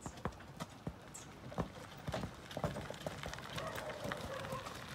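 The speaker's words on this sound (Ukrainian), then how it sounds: "Кобилка йде" Hooves of a draft horse mare clip-clop at a steady walking pace on soft ground outdoors, with rustling and faint background noise.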